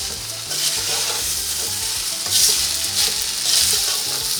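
Sugar and rice for zarda cooking in a pot over medium-high heat make a steady, close sizzle with a soft bubbling stir underneath, swelling briefly louder twice without any talk.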